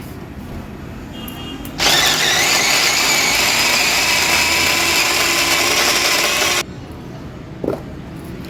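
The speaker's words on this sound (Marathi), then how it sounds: "आलं लसूण आणि मिरच्या घेते आणि ह्याचा क्रश तयार करून घेते" An electric crusher grinding ginger, garlic and chillies whirs loudly and steadily for about five seconds, then cuts off, leaving quiet room sound before and after.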